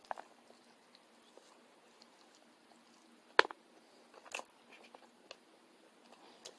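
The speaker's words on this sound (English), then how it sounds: "crunched a bone there" Someone chews a snack close to the microphone and crunches a bone in it, sparse soft bites with one sharp loud crack midway and a smaller crunch after, in a quiet room.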